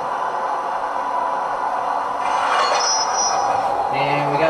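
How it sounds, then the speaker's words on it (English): A model train runs along newly wired track with a steady whirring rumble and metallic squeal, joined late by a brief higher tone. "First train to run on the new track."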